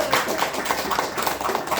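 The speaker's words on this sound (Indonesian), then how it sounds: "tepuk tangan untuk bagus semua" Training-session audience applause: dense, steady clapping from many hands fills the room throughout, evenly loud with no clear start or stop.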